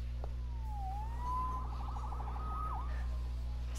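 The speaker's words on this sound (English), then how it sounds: "Saved by the siren." A synthetic police siren from the video game Spider-Man on PS4 wails with rising and falling, warbling tones over a steady low electronic hum, fairly quiet and game-like.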